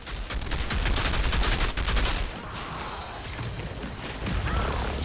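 Automated turrets in the shooter Outriders Worldslayer fire a dense, rapid stream of shots for about two seconds. The fire then eases into a rumbling wash of battle noise before another loud burst near the end.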